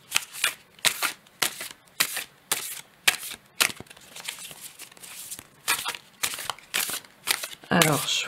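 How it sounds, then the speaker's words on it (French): Tarot cards shuffled and drawn by hand, a run of crisp, rapid riffling bursts and slides close to the mic, pausing briefly between shuffles, with a voice speaking faintly underneath. "Je vais tirer tout simplement 2 cartes"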